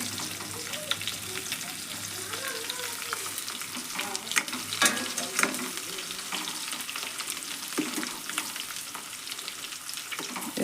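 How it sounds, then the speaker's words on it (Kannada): Bitter gourd pieces fry in hot oil in a home kitchen, a steady crackling sizzle running throughout with occasional louder pops and stirring scrapes, close by and with no voices. "ಇವನ್ನ ಎಣ್ಣೆ ಒಳಗಟ್ಟ ಫ್ರೈ ಮಾಡ್ತೇನೆ ರೀ."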